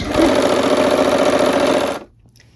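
A sewing machine runs steadily while stitching a quilt star block, a loud continuous whir for about two seconds before stopping abruptly into near silence.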